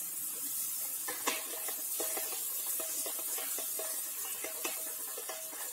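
Margarine melts in a pan over gentle heat while being stirred, giving a soft faint sizzle under repeated light scraping strokes in a steady rhythm.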